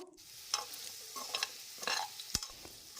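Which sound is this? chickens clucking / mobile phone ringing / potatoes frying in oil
potatoes frying in oil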